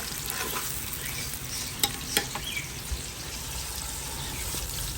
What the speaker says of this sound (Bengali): আমার ওই ভাতের চালের খিচুড়ির জন্য পেঁয়াজ দিলাম তেলে তারপরে একটা তেজপাতা দিচ্ছি আর দুটা এলাচি দিচ্ছি